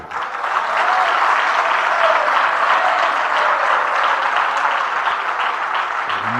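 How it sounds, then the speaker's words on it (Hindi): Applause from an audience at a Jain monk's sermon, a thick, sustained roar of clapping that stays loud and even before tailing off slightly at the end. "ये तालियां मुझे स्वीकार नहीं"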